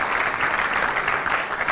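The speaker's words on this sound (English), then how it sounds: "Massive round of applause, ladies and gentlemen." Applause at a charity gala dinner in London, a dense, continuous roar of clapping from a large seated crowd, loud and steady throughout with no clear voices.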